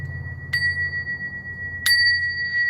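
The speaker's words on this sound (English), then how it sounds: "I'm going to ring a bell" A small bell rung twice in a spiritual sacred-space setting, each strike a bright metallic ping with a long sustained ringing tone that carries on between hits over a low hum, fairly close and clear with no talking.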